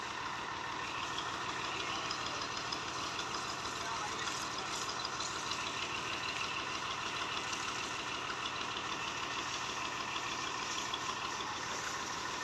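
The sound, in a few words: old Massey tractor engine idling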